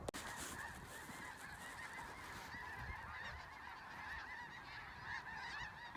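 Canada geese honk repeatedly in flight over a waterfowl hunting spread, a dense chorus of overlapping calls that sounds fairly close and continues throughout with no talking.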